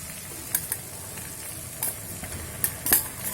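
A fish head is dropped into a boiling vegetable curry in a pan. Sizzling and stirring scrapes carry on throughout, with several sharp clatters and splashes.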